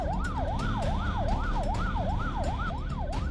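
A police car siren wails in a rapid rising-and-falling yelp during a pursuit, loud and close, with traffic noise rumbling underneath.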